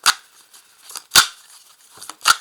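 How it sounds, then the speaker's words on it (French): Tarot cards are cut and handled in short, crisp bursts, three sharp papery snaps spaced about a second apart with softer shuffling between, close and fairly quiet. "je vais faire une première découpe de ce jeu"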